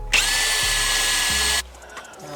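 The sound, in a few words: power drill drilling holes through metal plate in car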